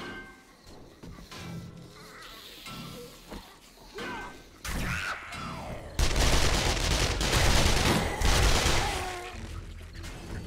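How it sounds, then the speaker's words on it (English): Gunshots in the video game 7 Days to Die, a cluttered run of shots and crashing impacts that grows louder and denser partway through, mixed with game noise and faint voices. "Okay, you were shooting your gun"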